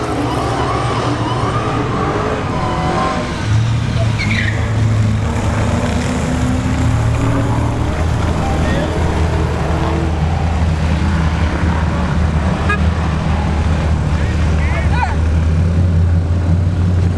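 Dodge Charger Hellcat and 392 Scat Pack at a drag strip test-and-tune session, engines droning and roaring steadily for a long stretch at moderate distance, with broad crowd and track noise around them.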